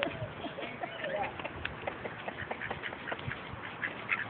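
Pet ducks quack in a busy run of nasal calls close by, mixed with light clip-clop-like steps from a playing pet dog, with people talking faintly at times.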